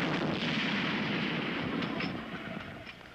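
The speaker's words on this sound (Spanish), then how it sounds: "Eso es shrapnel. Granadas con metralla." In a cartoon battle, shrapnel grenades and artillery fire rumble in a dense, steady roar of blasts and debris that fills the short stretch.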